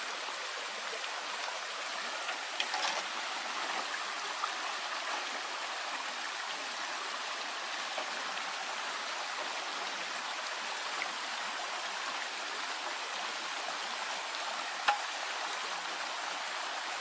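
A river current flows below a concrete dam over a rocky riverbed, a steady broadband rush of water that stays even and unbroken from start to finish, with only a few faint clicks.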